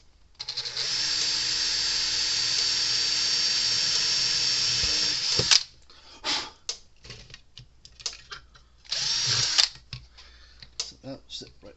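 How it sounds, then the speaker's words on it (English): A small power drill whines steadily for several seconds while drilling a hole in a Gallagher M800 electric fence energizer, stops, then gives short bursts amid clatter and handling noises, with another brief run near the end. "we're going to drill a hole right here."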